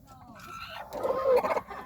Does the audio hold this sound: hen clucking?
yes